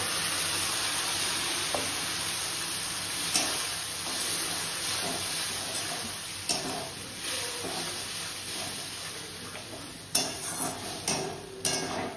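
Onion and green chillies fry in oil in a home kitchen pan as poppy seed paste is added for posto, with a steady close sizzle and occasional sharp clinks and scrapes of a utensil against the pan.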